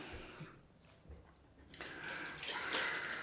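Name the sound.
washing hands under running water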